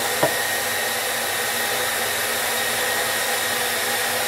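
A hair dryer blows hot air onto the original price sticker of a 1988 Teenage Mutant Ninja Turtles Donatello figure, a loud steady whooshing roar running without a break from start to finish.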